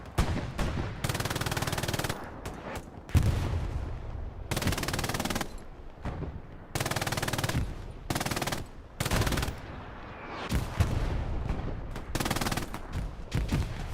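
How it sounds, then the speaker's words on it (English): MG42 machine gun in the Hell Let Loose PC game, firing repeated long sustained bursts separated by short pauses, loud and close, with more distant gunfire and battlefield noise between bursts in a large farm-map match. "Over here, we got Toss Boulet with the MG42"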